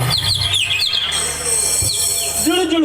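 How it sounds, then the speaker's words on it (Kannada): Birds chirp and tweet steadily in bright, repeated high calls, several overlapping, loud and close over a low steady hum. "ಅಕ್ಕಿಪಿಕ್ಕಿಗಳ ಕಲರವ"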